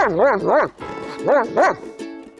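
A dog barks repeatedly during command training, giving several sharp, yelping barks in two pairs, close and fairly loud, with no talk over them.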